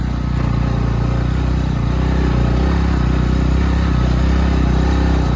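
A motorcycle carrying two riders labours up a rough, poorly kept hill road in Dhading, Nepal, its engine droning loud and close without a break, pitch wavering slightly as it strains.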